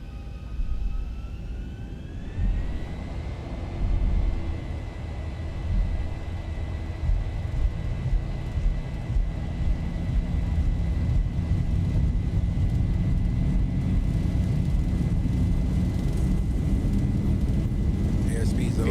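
Jet engines of a Boeing 737-800 in a flight simulator spool up to takeoff power, a steady rising roar with a climbing whine that grows louder and fills the clip, while a voice talks faintly underneath.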